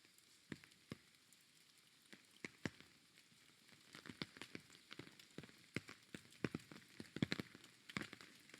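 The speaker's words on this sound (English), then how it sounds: "I really just love the sound of rain." Rain in a video game: scattered droplet taps and splashes over a soft steady patter, growing denser and busier toward the end, with no voices.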